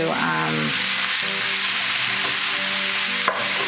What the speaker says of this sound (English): when you make mushrooms, they're gonna get really wet, and so then you saute them